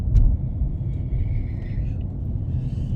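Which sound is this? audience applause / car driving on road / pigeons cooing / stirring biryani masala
car driving on road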